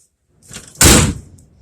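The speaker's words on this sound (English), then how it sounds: "I'm trying to shut this door." A door on a 1971 Chevy C10 or 1993 Ford Ranger XLT pickup is shut with one loud, close slam, after a short quieter rattle as it swings.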